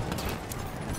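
A horse gallops nearby in Battlefield 1, its hooves pounding in a quick, rhythmic clip-clop over a brief, fairly loud burst.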